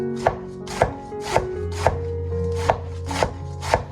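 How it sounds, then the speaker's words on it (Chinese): A knife chops cabbage into fine shreds on a cutting board, seven crisp, evenly spaced strikes close up with no talk. "最后再切成细丝，切的尽量细一点。"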